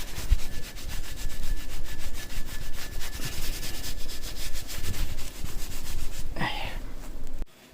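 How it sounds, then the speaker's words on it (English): A microfiber cloth rubs briskly over a freshly installed Akebono performance brake part on a 2010-15 Chevy Camaro SS, a close, steady rhythmic swishing that ends with a brief clunk and sudden quiet. "it's kind of wipe down anything like with a microfiber"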